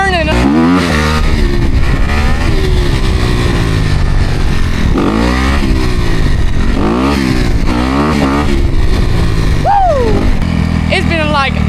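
A big dirt bike revs and accelerates hard, its engine rising and falling through repeated throttle bursts, loud and close, with brief shouts mixed in.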